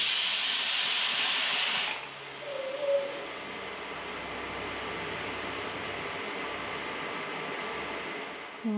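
A pressure cooker whistles with a loud, steady hiss while field beans boil, then cuts off abruptly after about two seconds, leaving a low kitchen hum.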